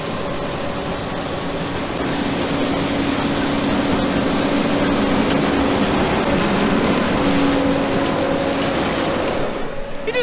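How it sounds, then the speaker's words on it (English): A John Deere 9500 combine harvester working a bean field at harvest roars with a loud, steady drone and a mechanical hum, continuous and close for the whole stretch. "I don't know if you guys can hear me over the roar of that engine"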